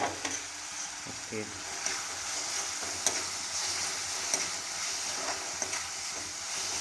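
Ginger and garlic paste frying in a pan, a steady close sizzle with occasional stirring scrapes and clicks, no talking.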